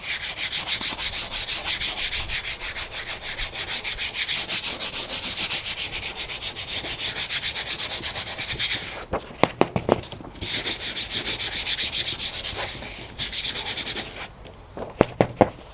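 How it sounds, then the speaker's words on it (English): Dried turmeric grit being rubbed off paper for a sun-printing dye project, a steady close scratchy brushing that runs continuously, briefly pauses with a few soft knocks, then resumes; no talking. "you want to rub off these sandy bits here from the turmeric"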